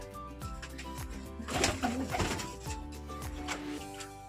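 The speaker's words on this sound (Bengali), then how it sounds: "এবার এটা দেখো ম্যাড্রাস পায়রা" A Madras pigeon, an aggressive breed, coos nearby in a home loft, repeated low throaty rolling calls in a steady rhythm with other pigeons cooing around it.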